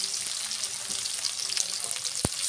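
Sliced onions and slit green chillies sizzle in hot oil in a pan for a Bengali egg dopiaza, a steady bright crackle with one sharp tap near the end and no talking.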